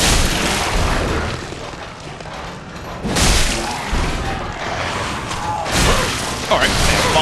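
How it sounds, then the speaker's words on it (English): Bombs going off in Dark Souls III: broad rumbling blasts swell at about three and six seconds over a continuous noisy backdrop, with a voice speaking through them. "Alright, bombs. Whew. A lot of bombs."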